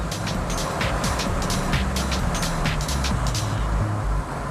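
A BMW E30 M3 from Germany accelerates hard, its engine a loud, steady roar heard from inside the car that holds without a break throughout.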